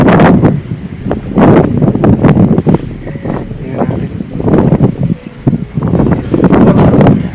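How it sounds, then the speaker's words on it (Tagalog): Gusty wind buffets the microphone in loud, rumbling bursts while a person talks briefly over it outdoors on a farm in Naic, Cavite, Philippines. "Lakas, mahangin dito, mapresko."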